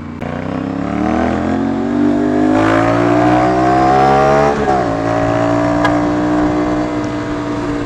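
An Aprilia RS 457 450cc sport bike engine revving while riding, a loud, close, steady drone that climbs in pitch, briefly dips and falls as the gear shifts, then pulls up again and settles.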